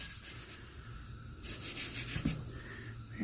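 Sandpaper rubbing rust off the metal bottom rim of a Kamplite lantern, a steady close scraping that stays even throughout and swells into stronger strokes partway through, with no talking.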